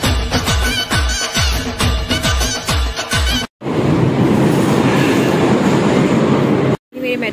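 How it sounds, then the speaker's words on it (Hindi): A Delhi metro train pulls in slowly, its rhythmic clickety-clack of wheels over rail joints giving way to a loud, steady roar of carriages, with brief gaps near the end. "मेट्रो आ चुकी है, बहुत धीरे धीरे चल रही है"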